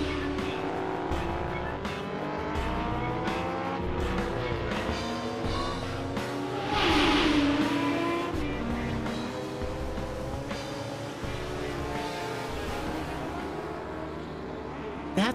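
Cartoon race cars speeding along, a continuous revving engine drone with shifting pitch and occasional tire squeal, loud and steady throughout.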